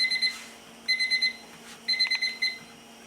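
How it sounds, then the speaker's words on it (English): A kitchen timer beeps while bagels are boiled, sounding in repeated bursts of four quick electronic pips with short pauses between them. "our timer is going off"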